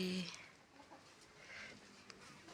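A chicken gives a short cluck near the start, followed by quieter faint clucking sounds from a coop in a calm, low-level setting.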